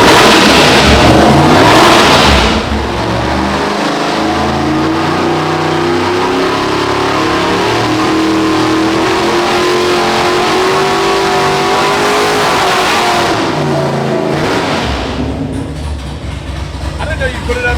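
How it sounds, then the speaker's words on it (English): A big V8 engine built for a 1968 Camaro revs hard and loud on an engine dyno, climbing steadily toward about 6,000 RPM before dropping back, with people talking over the roar. "Going on an engine dyno"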